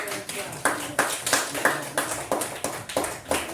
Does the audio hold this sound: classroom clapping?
yes